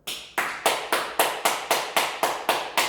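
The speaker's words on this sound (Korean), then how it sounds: "여러분들 각자를 위해서 한번 박수 좀 해주세요" A class of students claps in unison for themselves, producing about ten crisp, evenly spaced claps in a steady rhythm, moderately loud in a room.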